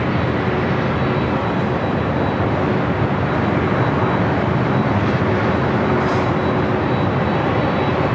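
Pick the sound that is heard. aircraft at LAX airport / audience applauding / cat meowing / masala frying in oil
aircraft at LAX airport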